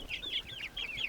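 Meat chickens on a homestead cluck in a quick run of short, rising-and-falling calls, fairly faint and steady, with no voices over them.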